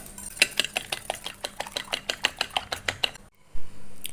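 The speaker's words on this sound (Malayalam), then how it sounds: "ഈ മുട്ട നമുക്കൊന്ന് നന്നായി മിക്സ് ചെയ്യാം." An egg is whisked in a bowl for chicken popcorn batter, giving a rapid, regular series of sharp clinks, about a dozen evenly spaced strokes. The clinking stops, then a brief clatter follows.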